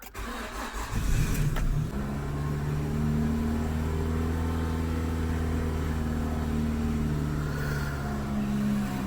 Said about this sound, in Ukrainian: Зараз запустимо, побачимо, як буде працювати. Запускаю.